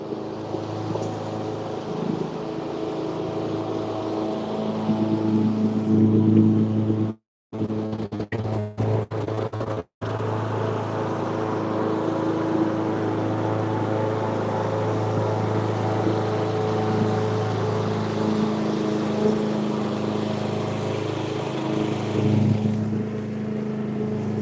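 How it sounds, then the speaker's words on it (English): A riding mower engine runs with a steady, loud, low drone that continues throughout, broken briefly by two short dropouts near the middle. "all right for this riding mower?"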